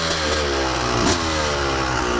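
A two-stroke dirt bike fitted with a Rekluse automatic clutch revs up close by, a brief rising engine roar with rattling mechanical clatter.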